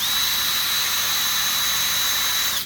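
A power drill whines at a steady high pitch, close and loud, as it smooths a metal smoker door hinge with an abrasive attachment. The whine holds evenly, then winds down at the end.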